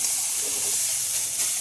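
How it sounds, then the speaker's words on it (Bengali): Banana stem (thor), a few days old, frying in a pan in a home kitchen, giving a steady, even hiss and sizzle throughout with no talk. "আর এখানে থোড় ভাজা বসিয়েছি।"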